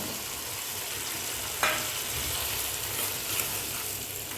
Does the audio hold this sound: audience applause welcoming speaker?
no